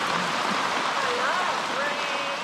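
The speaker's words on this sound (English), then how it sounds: "You love rain?" Steady rain falls on a stormy night, a dense continuous hiss of drops, with a voice faintly audible through the downpour.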